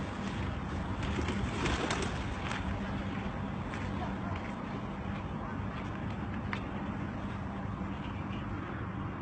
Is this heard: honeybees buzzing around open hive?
no